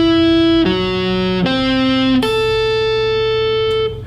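Electric rock guitar lick combining sweep picking, hybrid picking and string skipping: a few distinct picked notes stepping across strings, each sustaining with a bright, slightly overdriven tone, played alone and close.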